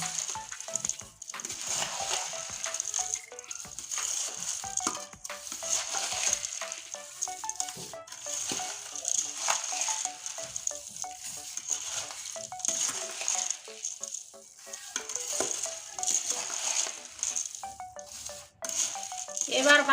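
Fried chanachur snack mix being tossed and stirred together, a busy rattling crunch of dry pieces shifting against the pan, close and continuous, with a voice talking over it.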